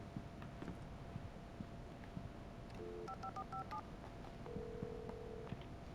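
A telephone is dialed in the video game Alan Wake Remastered, with a quick series of distinct touch-tone beeps followed by one longer tone over a quiet, faintly noisy background.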